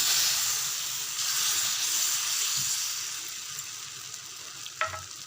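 Ragi rava dosa batter sizzles on a hot pan, a loud, steady hissing fry that eases slightly over time, with a light clink of a utensil near the end and no talk.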